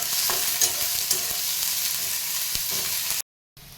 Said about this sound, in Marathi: नंतर आपण कांदा टाकून घेऊ. आपण चांगला परतून घेऊ.